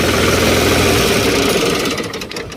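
A tractor engine idles loud and close, with a steady low mechanical chugging and vibration that drops in level near the end.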